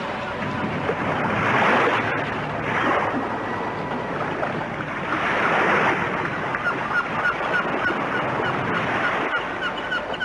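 Ocean waves wash toward the shore in broad, hissing surges, swelling twice to a louder rush before easing back into a steady background wash.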